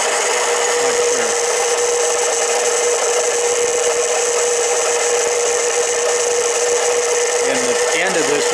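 A 7x10 Harbor Freight mini lathe cutting a 304 stainless bolt gives a loud, continuous whirring grind with a steady high scraping tone, close up and unbroken, with faint speech-like sounds near the start and end.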